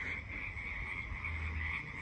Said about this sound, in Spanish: Creo que esta noche tenemos un concierto de ranas aquí.